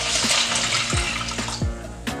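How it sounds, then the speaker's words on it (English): Water running into a container to make rice water, a steady broad rushing pour with a few hollow gurgles and glugs as the vessel fills, close and fairly loud with no talking. "So I'm gonna fill this guy up with some water and just pour that."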